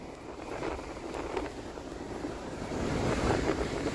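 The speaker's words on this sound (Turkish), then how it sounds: "Dalgalar burayı doldurmuş vaziyette ve aşırı şekilde yola" Storm waves surge onto a coastal road, a dense, steady wash of water and wind that grows louder toward the end, recorded from inside a vehicle.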